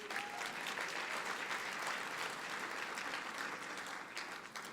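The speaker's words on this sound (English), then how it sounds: "That deserves more applause." An audience at an annual trade dinner applauds with steady, dense clapping that stays fairly even throughout, heard moderately from within the room with no voices.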